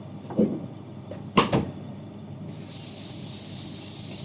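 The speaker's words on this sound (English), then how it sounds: "Let's spray this." Cooking spray hisses steadily onto a lasagna tray, a continuous bright spray lasting nearly two seconds, preceded by a couple of sharp clunks of the tray and can being handled.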